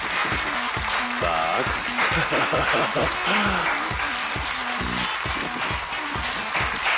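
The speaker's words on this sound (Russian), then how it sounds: "Аплодисменты, поехали" Game-show studio audience applauding on cue at the start of a round, a dense steady wash of clapping throughout with a voice speaking briefly over it.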